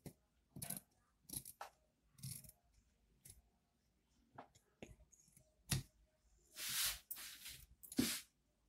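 Scissors cutting fabric for a collar jumpsuit, with a series of short, separate snips and crisp rustles, close and quiet, with silent gaps between the cuts.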